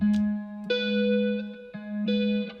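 An electric guitar with effects plays sustained, buzzing tones, shifting pitch a few times in a slow, steady phrase.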